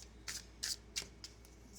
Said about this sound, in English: I'm gonna shuffle some more.